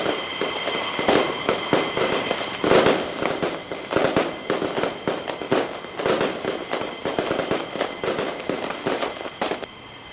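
Fireworks in the Roblox game Aeronautica crackle and pop in rapid, irregular bursts throughout, steady and fairly loud over a constant high tone, with no talking.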